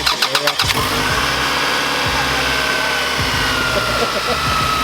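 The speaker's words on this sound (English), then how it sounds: "So he's gonna start the car. We're gonna let it run for a little bit." A car engine cranks in a quick stutter of starter pulses, catches and settles into a steady, loud idle right after a radiator replacement, with no talk over it.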